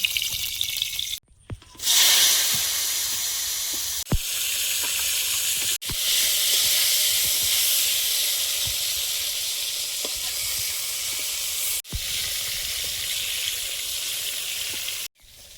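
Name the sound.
eggplant frying in a pan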